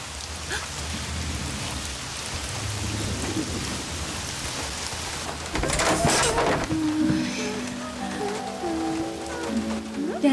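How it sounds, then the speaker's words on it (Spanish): Heavy rain pours down steadily with rumbling thunder, a dense continuous hiss that swells midway, with a short burst of other sounds and tones near the end. "¡Llueve!"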